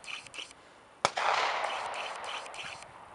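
A single sharp, distant crack like a far-off gunshot, heard outdoors during fishing, followed by a lingering broadband rumble and rustling.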